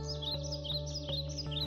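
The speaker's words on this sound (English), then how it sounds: "The singing of the birds" Birds chirp and tweet in quick repeated high phrases over a steady musical backing, bright and fairly close, with no talking.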